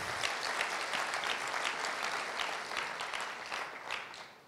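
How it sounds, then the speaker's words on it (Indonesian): A church congregation applauds, dense, steady clapping filling the space at close range before tapering off slightly at the end. "Suruh mau kasih tepuk tangan buat Allah kita yang luar biasa."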